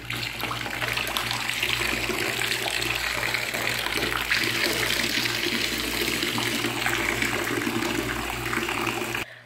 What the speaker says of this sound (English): Make sure it's directly under the faucet so it can make bubbles for you directly.